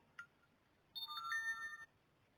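A Signal app notification tone on an Android phone plays once, a short melodic chime of a few bright rising notes lasting about a second, clear and close after a faint tap.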